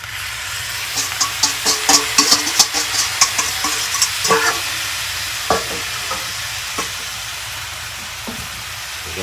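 Dressing is stirred into food in a bowl with a steady sizzling hiss and irregular scraping, clattering stirs that bunch together early and thin out toward the end.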